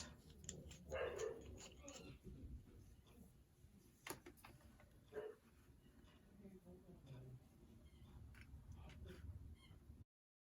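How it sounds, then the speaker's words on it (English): Dogs bark in the background of a quiet room where wax seals are being made, giving a few faint, scattered barks and yips under soft speech and small handling noises. "I got distracted by the dogs barking"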